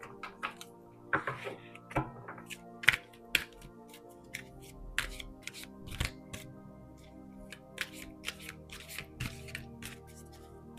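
Angel oracle cards being shuffled and handled, a run of crisp irregular flicks and slaps, close and quiet, with brief talking in between.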